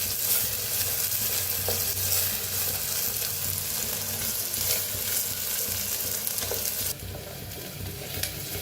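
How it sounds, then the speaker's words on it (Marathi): Chopped onions fry in hot oil in a pan. A bright, continuous sizzle crackles close up, with occasional stirring scrapes, and no voices. "तर कांद्याला छान भाजून घेऊया."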